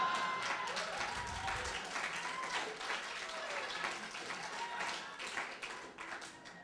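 A room full of women applauding, a steady wash of clapping held at moderate distance, slowly tapering off toward the end.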